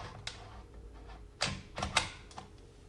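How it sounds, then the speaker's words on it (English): Several sharp plastic clicks and clacks, a few close together, as an RT3 power cable is pushed and clicked into place in the back of a tablet docking station; no talk. "And we'll click that into place."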